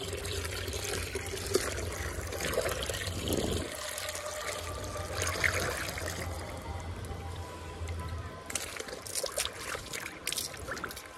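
Water mixed with Dettol is poured over clothes to soak them, making a steady, fairly quiet trickling pour with soft splashing.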